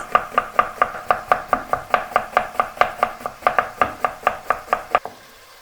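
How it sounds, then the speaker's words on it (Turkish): Rapid, even knife chops through an onion on a cutting board, about twenty crisp strikes in steady rhythm, close and loud, then stopping. "Soğanımızı doğrayarak işleme başlıyoruz. Soğanımızı yemeklik doğruyoruz."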